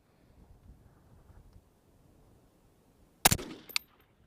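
A single sharp rifle shot from a 14.5-inch short-barreled 22 Dasher firing an 80-grain Berger VLD cracks loudly after quiet wind noise, followed by a brief echoing tail and a faint second report.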